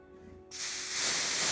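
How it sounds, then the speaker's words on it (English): Compressed air hisses onto a car wheel being prepped for paint, blowing off leftover dust: a sudden loud, sustained spray that starts after a quiet moment and keeps going. "Then I like to use compressed air to get off any remaining dust."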